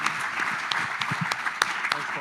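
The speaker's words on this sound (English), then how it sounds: "if you guys could all just join me in a round of applause" An audience at a security forum applauds, a dense, moderately loud wash of clapping with some crisp individual claps, and voices murmuring underneath.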